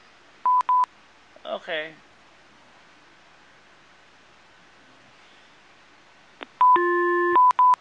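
Telephone left off the hook producing touch-tone dialing beeps: a few short tone bursts, a brief spoken word, then a louder chord of sustained dial tones near the end, otherwise quiet.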